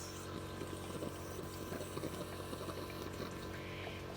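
Steady hissing spray of cleaner being flushed in reverse through the in-tank fuel filter of an 08+ Suzuki GSX650F, a continuous liquid rush with faint dripping, no talk.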